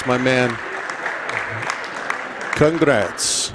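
Both teams applauding during senior night at a high school basketball game, Griswold against Montville, a loose scatter of claps under a close announcer's voice.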